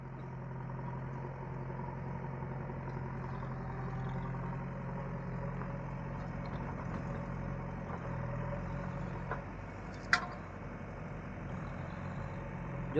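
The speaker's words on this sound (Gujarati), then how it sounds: "એક ટ્રેક્ટર નાખવાનું ચાલુ છે ને એક ભરવાનું ચાલુ છે" A JCB and a tractor run steadily while manure is loaded onto a trolley on a farm, a continuous low engine drone with one brief sharp knock near the end.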